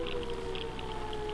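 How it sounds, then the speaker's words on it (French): An alarm in the horror video game Demonsomnia drones as a low, steady tone with faint warbling higher pulses, quiet and continuous. "j'ai entendu l'alarme, ça ressemble à des bouts d'alarme"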